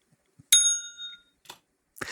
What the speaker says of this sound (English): And then I could ding your bell.